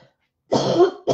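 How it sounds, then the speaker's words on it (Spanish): A person clears their throat close up: one loud, rough throat-clearing rasp followed by a second short burst, with silence before it. "qué carrasperita, pues tan buena la que tengo"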